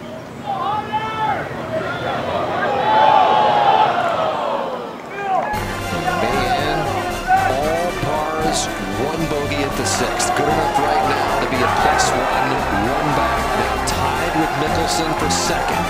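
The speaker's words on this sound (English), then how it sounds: "Crowd cheering Phil on as he has in sights his first U.S. Open championship." Golf gallery at the U.S. Open cheering Phil Mickelson, a broad sustained roar and applause from a large crowd filling the air, with a commentator talking over it.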